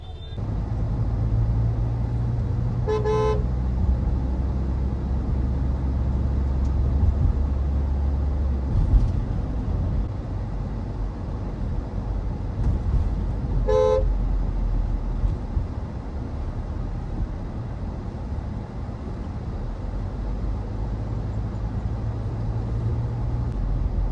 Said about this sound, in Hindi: क्या चीज का जाम लग गया पता नहीं।